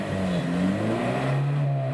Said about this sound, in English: just blip the throttle so they can see